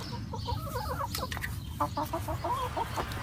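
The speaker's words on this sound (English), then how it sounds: "Universal chicken call" Backyard chickens cluck and make soft, warbling chatter in quick repeated phrases, close by and moderately loud over a steady background hum.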